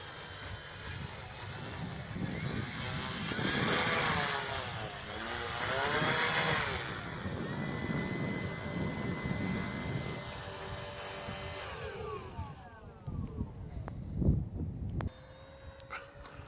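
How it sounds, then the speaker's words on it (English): Propeller engine of an RC model Fieseler Fi156 Storch airplane in a crosswind, a steady buzzing drone that swells and fades as it passes overhead, then cuts off to quieter outdoor ambience near the end. "Mason, you really have to use a lot of rudder or else this thing stalls"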